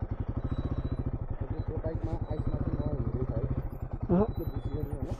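A Royal Enfield Himalayan 452 motorcycle rides over ice in the Nepal Himalayas, its engine giving a steady, close, pulsing thrum throughout while voices talk over it.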